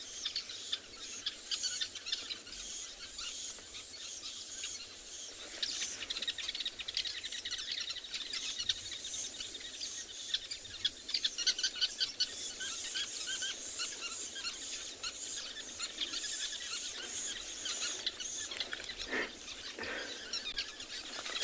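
Wild birds call and chirp at sunrise on a safari in a dry region of South Africa, a steady chorus of overlapping tweets and trills at moderate distance with faint insect buzz beneath, no voices.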